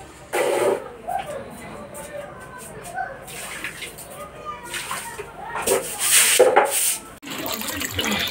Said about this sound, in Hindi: देखिए बर्तन धोएंगे